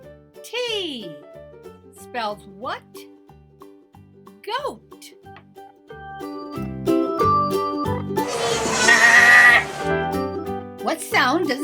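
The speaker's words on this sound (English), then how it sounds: "What sound does a goat make?" Goat bleats sound in short, wavering calls among bright, tuneful children's-song voices, building into a louder, busier mix near the end.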